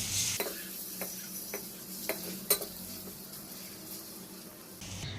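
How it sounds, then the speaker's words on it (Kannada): Boiled eggs fry gently over a low flame for egg biryani, a soft steady sizzle broken by a few sharp ticks and scrapes from stirring, quiet and close with no talking. "ಅದಕ್ಕೆ ಇವಾಗ ಮೊಟ್ಟೆಗಳನ್ನ ಹಾಕಿ ನೀಟಾಗಿ ಫ್ರೈ ಮಾಡ್ಕೊತಾರೆ"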